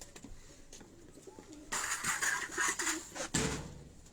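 Pigeons coo on a rooftop in Abbottabad, soft throaty calls near at hand, with louder bursts of fluttering and rustling midway and again near the end.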